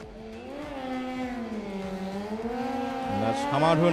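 A BMW car and a motorbike launch side by side at a drag racing event, engines rising in pitch as they accelerate hard and loud over a continuous crowd and track din.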